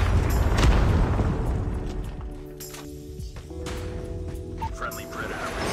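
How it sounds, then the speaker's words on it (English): A Predator missile strike explodes in Call of Duty Mobile with a heavy, deep boom at the start that slowly rolls off, followed by a steady bed of game ambience and tonal effects. "Predator missile inbound."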